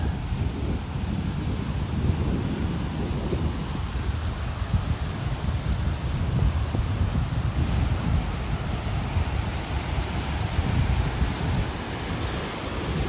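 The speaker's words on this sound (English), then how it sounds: "Feels like the wind is coming out of the southwest. Hitting me right in the face now." Constant heavy southwest wind buffeting the microphone on a beach in North Naples, Florida, a dense low roar with surf blended in, loud and unbroken throughout.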